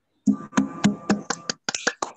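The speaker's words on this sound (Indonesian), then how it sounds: "tepuk tangan. Ervan 2 kali." Children in a classroom clap their hands for a classmate, a quick run of sharp, fairly close claps in a short rhythmic pattern with brief gaps.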